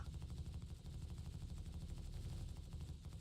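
Ship turret gunfire from a Drake Caterpillar in Star Citizen, a dense, continuous stream of rapid shots with a heavy low-end rumble that runs at steady loudness through the whole stretch.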